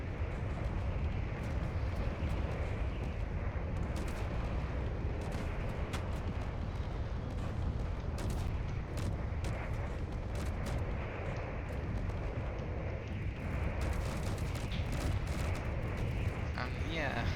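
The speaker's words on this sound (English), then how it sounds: "Of every gun, Gatling, artillery, or assault cannons going off." Dense, continuous barrage of gatling, artillery and assault cannon fire in Space Engineers, rapid bursts and booming blasts overlapping without pause, loud and close throughout.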